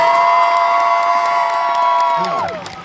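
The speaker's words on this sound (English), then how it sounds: "can we get another massive round of applause for our amazing, talented voice actors?" A convention panel crowd cheers and applauds loudly and steadily, with whoops rising over the clapping before it begins to fade near the end.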